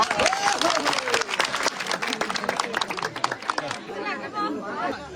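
A seated audience at a Karbi community event in Shivsagar breaks into lively clapping, dense and close, mixed with crowd chatter and voices that carry on as the applause thins out.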